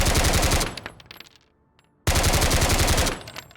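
Rapid automatic gunfire from the Road to Vostok video game, a loud sustained burst of closely spaced shots that stops, leaves a short quiet gap, then resumes in another dense burst, with no talking.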